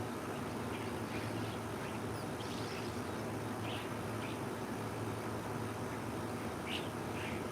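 A flock of birds gathers at scattered food outdoors, with faint chirps and calls popping up now and then over a constant loud background rumble.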